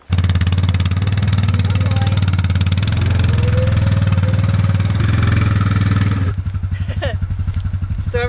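An ATV engine idles with a steady low rumble close by, a brief rev in the middle, then a rougher, lower idle with some clatter.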